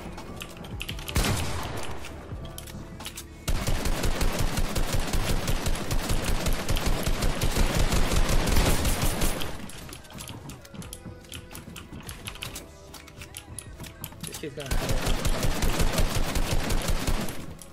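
Gunfire in Fortnite, long rapid bursts of automatic shots in loud sustained runs with short pauses between, mixed with keyboard clatter and a brief spoken word.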